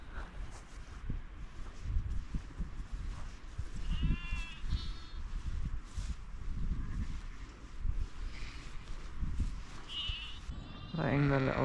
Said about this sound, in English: I don't want to intimidate these sheep because they got little